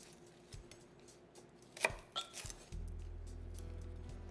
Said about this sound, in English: then I need to chop up a couple stalks of celery